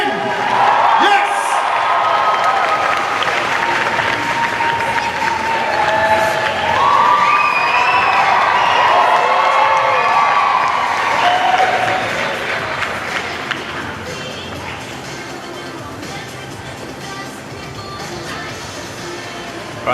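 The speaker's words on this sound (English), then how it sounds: "Give a round of applause, ladies and gentlemen." A large crowd at a Sydney cosplay contest cheers, shouts and whoops loudly for a contestant, with a steady wash of voices that tapers to a quieter murmur toward the end.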